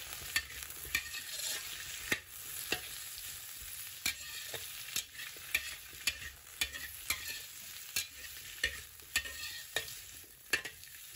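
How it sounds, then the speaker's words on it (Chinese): Red choy sum stems stir-fried over high heat, a steady hiss of frying under repeated sharp clacks of a spatula scraping the wok, about one to two per second, close and fairly quiet with no talking. "下入红菜苔梗，给它开大火翻炒个60秒"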